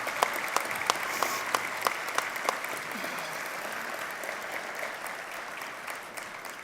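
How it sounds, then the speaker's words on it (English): Commencement audience at a Central Ohio Technical College autumn ceremony applauding steadily, a dense even patter of many hands with a few sharper claps early, gradually thinning toward the end. "Let's give them all a round of applause."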